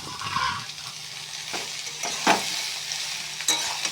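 Peeled, cut ash gourd with slit chillies fries in a pan, a soft steady sizzle broken by a few clinks and scrapes of a spatula stirring against the metal.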